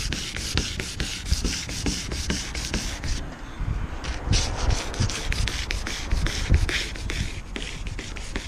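Hand sanding roughs up the fiberglass hull of a Thunderbird tri-hull boat under restoration, with continuous rhythmic rasping strokes, close and steady, and a brief lighter pause partway through.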